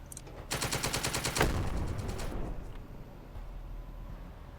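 A rapid burst of automatic gunfire and a blast in the tank video game The Troop, a loud rattling stream of shots for about two seconds followed by a decaying rumble with no voices.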